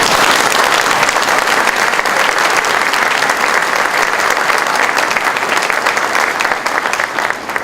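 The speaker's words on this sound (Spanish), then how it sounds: "Esto merece por lo menos un aplauso." A large audience breaks into loud, dense applause at a lecture by Padre Rafael Borges during a celebration of Mary Help of Christians, sustained steadily for several seconds without a pause.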